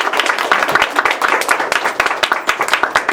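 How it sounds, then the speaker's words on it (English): Applause at a community presentation, a smallish group clapping near and loud, individual hand claps audible in a quick, uneven patter throughout. "a round of applause for that"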